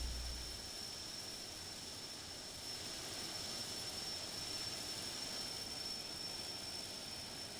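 A TBM 930 turboprop takes off in the Infinite Flight video game, giving a steady, even engine roar with a thin high whine that holds constant throughout.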